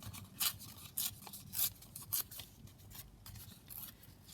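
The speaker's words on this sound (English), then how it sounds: "So we're just tearing that out, like that." Paper being torn by hand for a junk journal, several short rips and scratchy tearing strokes in a quick uneven rhythm, close and fairly quiet.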